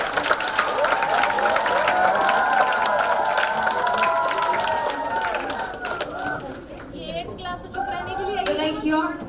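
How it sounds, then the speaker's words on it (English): Audience at an English extempore school competition giving loud applause and cheers, a steady wash of many hands clapping mixed with chatter and raised voices that eases and breaks into talk toward the end. "एक बार supreme ma'am के लिए जोरदार ताली बजाएं."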